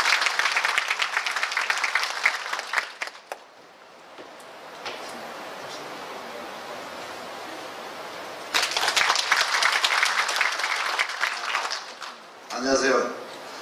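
A hall audience at a regional government briefing in Yangyang breaks into loud, dense applause, tapering to a quieter murmur mid-way, then swelling again in a second strong burst before fading.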